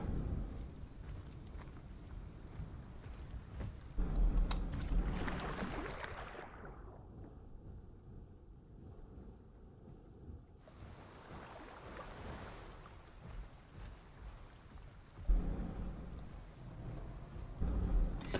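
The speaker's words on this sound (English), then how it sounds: "This rain is refusing to let up." Heavy rain and rumbling thunder in the dinosaur survival game Path of Titans, a dense roaring downpour with deep booming rolls, briefly muffled midway before the storm returns at full strength.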